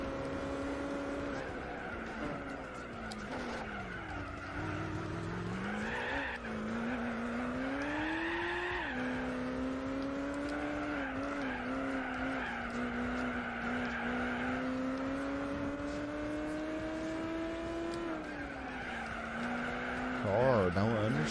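Race cars driving hard at Laguna Seca in Gran Turismo 4, a continuous loud engine whine that climbs and drops through gear changes and corners, with tire skidding and squeal mixed in.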